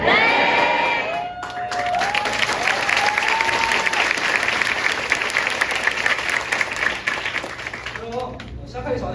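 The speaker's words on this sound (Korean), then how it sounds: "그래서 정말 우레와 같은 박수와 폭풍 리액션 부탁드리겠습니다." Theater audience at a student drama club performance of Dead Poets Society, breaking into sustained loud applause and cheering after a brief voice at the start, with whoops rising over the clapping before it fades near the end.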